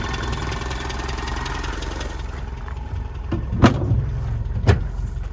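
A 1980 MGB roadster idles with a steady low engine rumble, close and moderately loud, and two sharp knocks or clunks cut in near the end.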